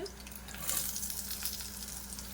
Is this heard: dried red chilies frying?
yes